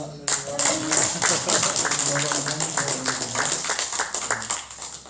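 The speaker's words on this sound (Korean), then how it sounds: "우리 환영의 박수로 할렐루야로 모시겠습니다." Welcoming applause during a Sunday church service, brisk clapping from a congregation that starts abruptly and continues steadily, with voices talking over it throughout.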